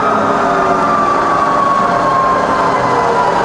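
Bridgeport Vari Speed milling machine spindle turning at low speed, a steady smooth mechanical hum with a faint whine that drifts slightly, continuous and close with no talking.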